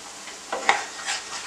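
Sugar syrup for homemade gel food colouring simmers in a pan while a spoon stirs it, giving a soft bubbling sizzle with a few scraping strokes, close and fairly quiet.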